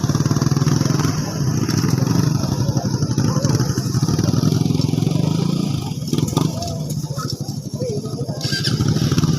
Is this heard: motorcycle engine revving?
yes